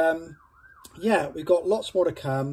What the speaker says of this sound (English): Sorry about the siren in the background, by the way,